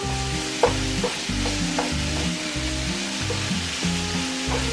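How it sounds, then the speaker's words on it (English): Minced garlic, about two teaspoons, frying in a pan on a Weber kettle grill alongside other ingredients, a steady close sizzle with periodic stirring scrapes throughout. "Now we're going to come back with 2 teaspoons of garlic"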